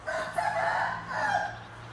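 Chickens and a rooster call outdoors at a car wash, with steady clucking and crowing over a constant low hum, fairly loud and continuous without talk.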